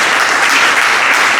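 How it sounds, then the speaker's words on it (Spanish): Church congregation giving a strong round of applause, dense continuous clapping filling the room, loud and close throughout. "Yo quiero que me le den un fuerte aplauso"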